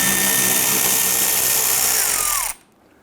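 A power tool whirs loudly and steadily while removing a splash shield bolt under a 2011-2021 Jeep Grand Cherokee, then cuts off abruptly, leaving a quiet garage.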